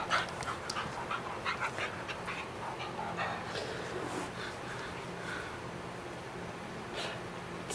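A dog pants steadily and rapidly up close, with occasional small whimpers and snorts mixed into the quick breathing rhythm.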